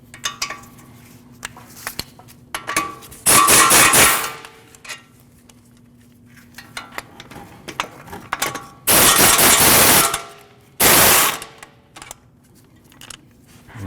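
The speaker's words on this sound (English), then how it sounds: "what you want to do is you want to take these 2 caliper mounting bracket bolts out" An impact or power tool spins out the inverted Torx E20 caliper mounting bracket bolts on the front brakes of a 2014-2023 Jeep Cherokee, giving three loud mechanical bursts, about one second each, between quieter clinks and handling noises.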